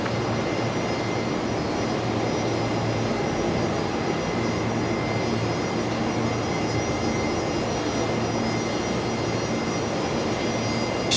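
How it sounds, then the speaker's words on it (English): A Virgin airliner landing at Brisbane Airport under full reverse thrust, a loud, sustained broadband jet roar holding steady throughout with a faint whine on top. "They are not afraid of a bit of full reverse thrust to make it off the runway nice and quick."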